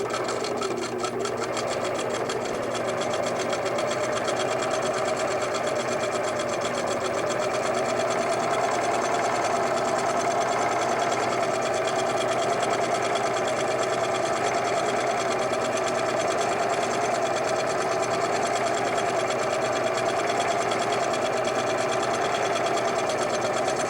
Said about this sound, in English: so we'll sew our last border piece on